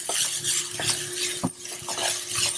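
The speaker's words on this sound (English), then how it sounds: "And just saute it for" Grated coconut being stirred in a pan over a low flame, with repeated light scraping and clinking of a utensil against the metal at a steady, close pace and no talking.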